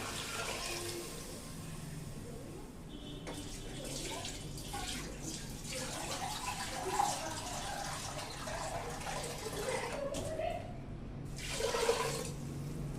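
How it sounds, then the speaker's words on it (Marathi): Water poured into a moong dal khichdi mixture of rice and lentils in a kitchen pot, a steady splashing pour with a couple of louder gushes near the end, moderately close and heard alone. "याच्यामध्ये आपण हे पाणी घालूया।"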